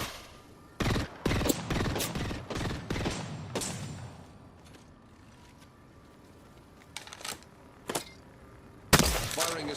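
Smart-bullet gunfire in a Final Fantasy XVI game session: a rapid cluster of sharp, loud shots at first, then scattered single reports after a quieter stretch, ending in a final heavy burst.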